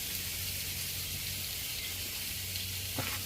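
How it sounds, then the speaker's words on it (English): Onions frying in butter on a Blackstone outdoor griddle, a steady, moderately quiet sizzle and hiss that holds throughout. "I'm going to put a little bit of butter with them onions."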